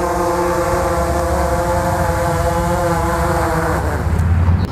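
A drone comes in to land after an aerial mapping flight, its steady, loud rotor whine holding even pitch and then dropping away near the end as it touches down, with no talk over it.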